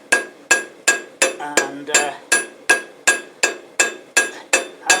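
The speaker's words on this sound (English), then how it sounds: "Hammering skills poor." A novice blacksmith without an anvil hammers metal to forge a small spoon, thirteen sharp, ringing blows at a steady rhythm, close and loud, with one brief spoken word in the middle.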